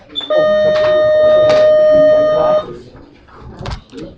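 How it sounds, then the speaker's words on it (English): School bell in a classroom, one loud steady electronic tone lasting about two seconds, followed by brief classroom noise. "I think they have the bells set wrong."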